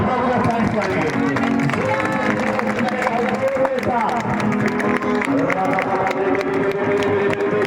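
A church congregation claps together in praise, a dense, steady patter of many hands that runs throughout, mixed with loud voices and singing-like calls over the top.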